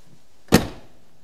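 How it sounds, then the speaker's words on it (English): The door of a 1968 Ford LTD Brougham four-door hardtop with a 390 V8 swings shut in a single sharp, solid thunk, close and loud, then fades quickly to quiet. "close the door"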